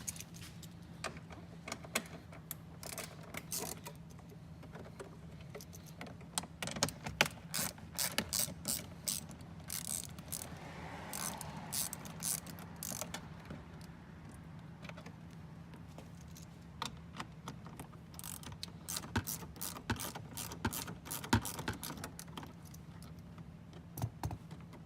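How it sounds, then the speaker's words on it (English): Ratchet clicks in short, irregular bursts, close and fairly quiet, as a 10mm bolt and Phillips screws come out of a lower trim panel on a 2016-or-later Toyota Tacoma, with faint clinks of tools and parts between. "remove this lower trim panel with the 10mm bolt here and 2 Phillips head screws, or 10mm, your choice"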